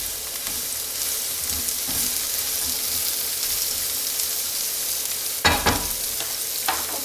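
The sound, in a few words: garlic sizzling in a hot pan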